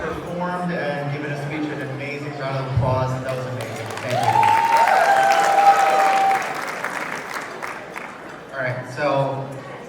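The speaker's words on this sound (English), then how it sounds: "Can we just give everyone who's performed and given a speech an amazing round of applause?" A wedding reception crowd claps for dances and speeches, a swell of applause and cheering rising in the middle beneath a speaker's voice over a microphone.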